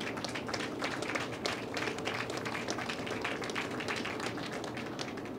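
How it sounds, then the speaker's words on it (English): Applause from a crowd honoring builders at a housing complex topping-off ceremony in Newark, a dense, steady patter of many hands clapping continuously at an even level throughout. "We need to give them all a round of applause for the work that they've doing in our city."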